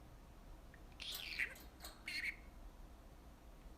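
A pet budgie named Kiwi gives two short, faint chirps a moment apart against a quiet indoor room hum; nobody speaks.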